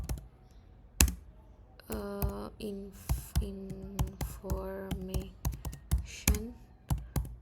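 Computer keyboard typing at a router command line, quick irregular clicks and clacks in short bursts, close to the microphone, while someone speaks intermittently in Bengali over and between the keystrokes.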